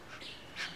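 Bourke's parrots call at nest boxes with soft, breathy squawks, two brief chirping calls rising over a quiet hiss, faint and close.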